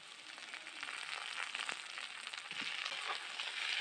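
Potatoes fry in hot oil for a Bengali egg curry with potatoes, giving a steady, moderately quiet sizzle and hiss with small crackles, heard alone without talk.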